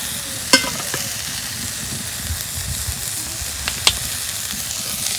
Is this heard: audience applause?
no